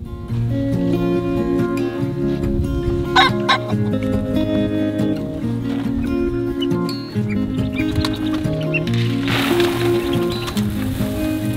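Loud, continuous clucking and squawking from several roosters at once, with a rougher burst of noise near the end.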